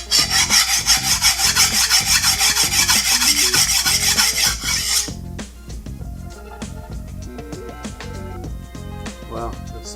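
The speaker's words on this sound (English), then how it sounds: "So I'll just sharpen out that recurve really quick." Cleaver blade being hand sharpened along its recurve edge, a loud rapid rhythmic rasping for about five seconds that then stops, followed by quieter scraping and handling noises with a voice talking.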